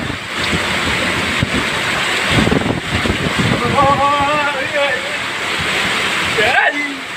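Dense, heavy rushing noise of pouring rain outside a shop fills the scene, with people talking under it and a few faint squeaks in the background.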